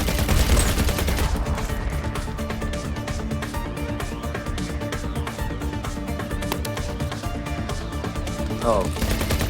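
Gunfire in the VR shooter Vertigo 2 on PS VR2, with dense rapid bursts of shots crackling continuously over game music and effects, loud and sustained, while a player talks over it.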